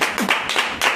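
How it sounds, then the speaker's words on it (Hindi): Congregation clapping during a church sermon, a short burst of many hands applauding together, fairly loud and close, with no talk over it. "ताली बजाएं इस प्रकाशन के लिए"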